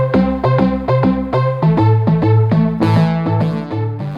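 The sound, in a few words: bouncy arpeggiated synth bass from Trillion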